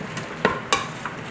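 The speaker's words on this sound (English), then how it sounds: "I'm just letting the tomato paste cook out, melt a little bit." Tomato paste cooking in an Instant Pot for a vegan chili mac, with a soft sizzle beneath two or three sharp spoon scrapes and knocks against the pot.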